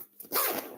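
A single short dog bark sounds close and loud, a brief burst with no voices over it.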